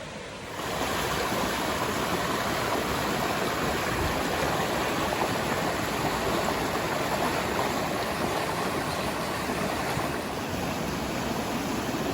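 Steady, loud rush of a waterfall fills the whole stretch, a continuous broadband roar with no voices, close and unchanging, in Nakhon Nayok, Thailand.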